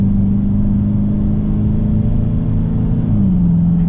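A 2023 Dodge Challenger R/T cruises down the road with a loud, steady engine drone and road noise, the engine note dipping slightly near the end, with no talk.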